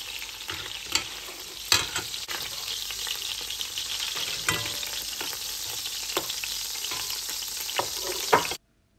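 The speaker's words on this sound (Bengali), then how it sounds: "একটি কড়াইয়ে তেল দিয়ে আগ থেকে ম্যারিনেট করে রাখা চিংড়িগুলোকে হালকা করে ভেজে নেব মিনিট খানেকের মতো।" Marinated shrimp fry in oil in a wok, a close, steady sizzle broken by repeated stirring scrapes and clacks.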